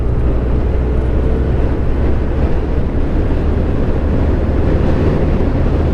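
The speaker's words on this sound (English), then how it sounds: "Man, the extra wind I don't like." Strong, steady wind roar buffeting the rider on a Honda CB1100 motorcycle on a main road, a loud broadband rush that fills the whole stretch without letup and with no voices.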